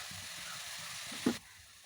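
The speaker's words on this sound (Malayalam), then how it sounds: "ഗോൾഡൻ കളറാകുന്നത് വരെ ഫ്രൈ ചെയ്യുക" Jackfruit curry ingredients fry in a pan toward golden brown, giving a steady soft sizzle with a brief louder stir-like burst near the end before the hiss drops lower.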